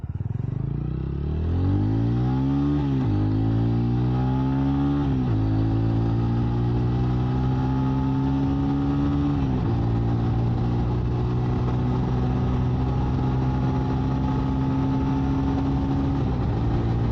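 A TVS Ronin motorcycle accelerates hard, its engine note climbing through several gears with short dips at each upshift, then settling into a steady, loud cruising drone up close. No one talks.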